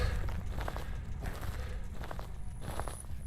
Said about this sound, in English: the footsteps on the vinyl throw me off every fracking time